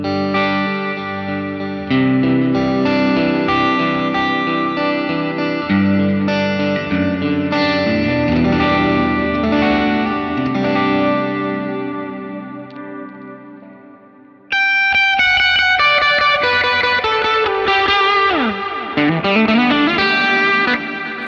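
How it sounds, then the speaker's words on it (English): An electric guitar plays through a Line 6 Helix delay and reverb effect. Sustained, echoing chords and notes ring out and tail off, then a brighter passage with bending, repeating echoes follows. No talking. "The cool thing about this delay and the fact that it's a reverb, but it doesn't overwhelm your sound"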